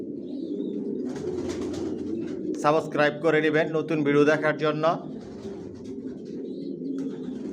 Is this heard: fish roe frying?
no